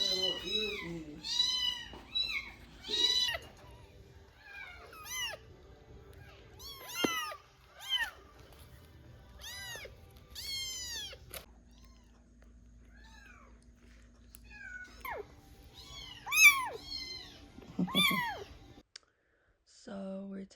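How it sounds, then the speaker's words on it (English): Several young kittens, about three or four weeks old, mew repeatedly in high, thin, close-up cries, some overlapping, with a few clicks and soft purring between calls and quiet human murmuring in the background. "So we're taking care of 7 kittens right now."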